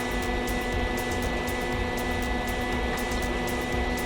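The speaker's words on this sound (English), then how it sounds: "Electric MIG welder wife found for me at an auction" Electric MIG welder, bought cheaply at auction, welding the rusty body of an old rat dually truck, giving a steady, loud, continuous buzzing crackle with faint sputtering bursts throughout and no voices.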